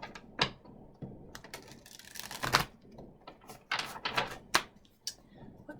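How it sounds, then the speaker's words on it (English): Tarot cards shuffled by hand during a love reading, a run of crisp riffling snaps and soft flutters at close range, with a few sharper card slaps standing out, no talk over it. "Let me give it a quick shuffle."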